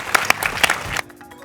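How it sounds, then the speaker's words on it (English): A conference audience at a Bitcoin startup pitch day applauds the judges with a short burst of scattered claps that stops abruptly after about a second. "So one more round of applause for our judges on the infrastructure section."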